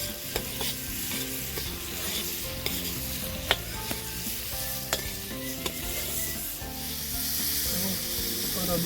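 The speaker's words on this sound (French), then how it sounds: "j'y mets l'ail, le poivron, et je fais revenir" Garlic and bell pepper frying for paella in a pan over a wood fire, a steady close sizzle with the scrape and clack of stirring breaking through at intervals.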